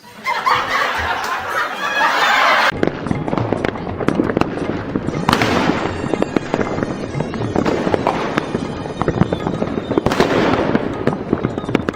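Firecrackers burst repeatedly in an animated Diwali comedy, with sharp loud cracks and sudden blasts recurring throughout, mixed with cartoon snickering and laughter.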